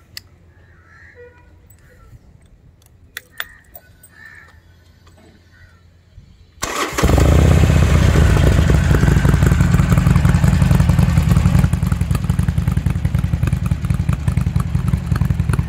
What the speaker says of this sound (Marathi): शेवटचं आहे ते मी माझी बाईक स्टार्ट करतो